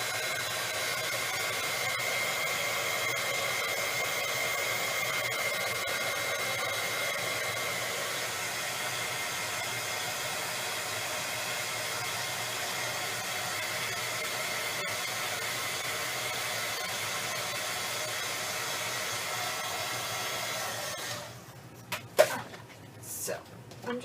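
A hair dryer blows steadily at close range to dry a craft project, a continuous airy roar lasting about twenty seconds before it cuts off, followed by a few handling clicks and knocks.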